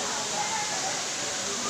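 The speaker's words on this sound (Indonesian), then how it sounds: "Air terjun guys." Steady broadband rush of the Batu Ampar waterfall, a continuous close roar of falling water with no breaks, filling the short stretch evenly.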